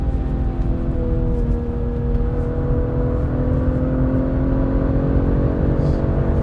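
A BMW car with a B58 engine accelerates hard, its loud continuous engine roar climbing steadily in pitch from inside the cabin, with no speech over it.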